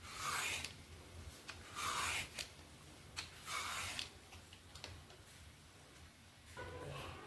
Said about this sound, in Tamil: தோலெல்லாம் இந்த மாதிரி எடுத்துக்கலாம்.